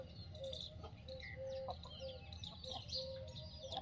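Desi free-range hens and a rooster of a good breed clucking around a farmyard, with several overlapping calls and soft chirps coming close by over a steady outdoor background.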